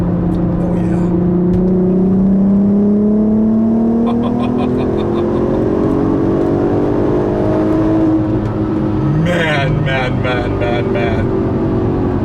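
A 2008 Volkswagen R32 engine roars loud and close under acceleration, its pitch climbing steadily through the gears, with a voice talking over much of it.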